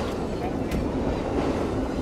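A train rumbling past in a video game, a steady loud low roar with faint clacking, continuous and close throughout.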